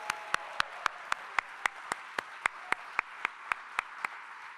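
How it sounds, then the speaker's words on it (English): At an arts awards ceremony, an audience applauds as a soft, even wash of clapping, with a crisp rhythmic clap standing out at a steady pace over it. "Please give tonight's recipients and performances a round of applause."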